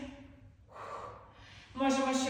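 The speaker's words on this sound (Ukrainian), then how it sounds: "Вдих і видих" Slow, close breathing during a morning flexibility stretching routine: a soft inhale followed by a longer, fuller exhale, the last breath partly voiced.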